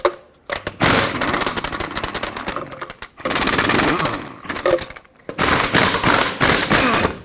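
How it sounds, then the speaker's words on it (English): Impact wrench bursts loosening rusted, swollen 21–22 mm lug nuts on a 2009–2014 Ford F-150 front wheel, three loud rattling hammering bursts of about two seconds each separated by short pauses, close up with no talking. "Let's remove the wheel. You would want to use a 21mm socket."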